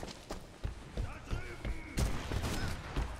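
Gunfire in the video game Sniper Elite V2 Remastered, played co-op: a string of sharp shots and bursts over about three seconds, loudest toward the end, with players talking over the action.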